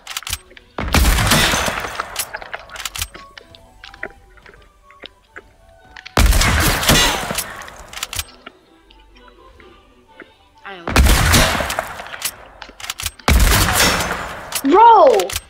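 Gunfire in the video game Fortnite comes in four dense, loud bursts of rapid shots separated by quieter gaps, with players' voices talking and exclaiming between and over the volleys.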